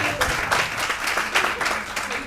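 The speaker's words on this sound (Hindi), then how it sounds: "इन पागलों के लिए तालियां" An audience at a hospital training and grooming workshop bursts into applause, a full, dense round of many people clapping together that carries on steadily throughout.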